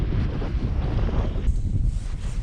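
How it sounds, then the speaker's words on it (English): Wind buffets the microphone beside a stillwater lake in winter, a steady, loud low rushing roar with gusty swells throughout. "Bit windy out on this arm, but nothing like down there."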